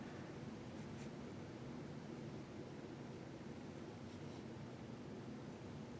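A pencil rubs back and forth over paper while a figure is shaded and darkened, making a soft, continuous, faint scratching with no voices.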